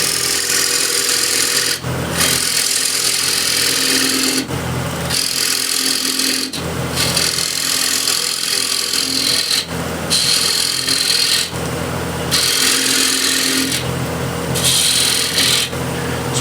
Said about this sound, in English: Now I want to rough that out as well. So again, I'll use refiner.